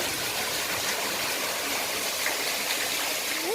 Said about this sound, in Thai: น้ำตกจุดแรกค่ะ